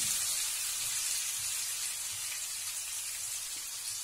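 Steady, soft sizzling hiss like eggs frying heard from a distance in a home kitchen while cooking Hyderabadi chicken biryani, continuous and even throughout with no talking.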